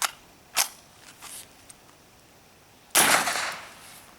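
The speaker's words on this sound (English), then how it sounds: "we're going to shoot this mellow yellow can with the birdshot and see what it does to it" A Ruger 10/22 rifle loaded with birdshot fires at a can, giving a few sharp, faint cracks early on and then a louder, longer burst of noise that trails off, with no talk.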